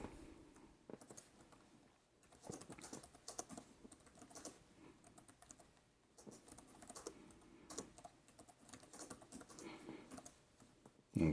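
Fingers type on an iOrange-E keyboard case for a 9.7-inch iPad Pro, giving close, quiet, rapid clicks in bursts with brief pauses, with no talking.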